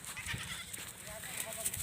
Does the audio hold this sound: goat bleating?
yes